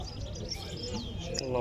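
A caged goldfinch at a songbird market trills quick, bright chirps and twittering phrases over a busy background of market chatter and other birds.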